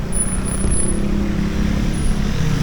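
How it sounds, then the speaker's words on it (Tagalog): Steady traffic of cars, trucks and motorcycles rolling along a market road in Tayod, a continuous low engine rumble at moderate distance with no clear speech. "Maraming sasakyan."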